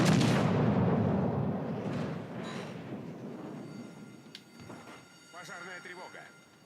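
Heavy naval gunfire rumbles from World of Warships: Legends, a loud booming blast at the start decaying into a long low roar, followed by fainter distant bursts and some game effects.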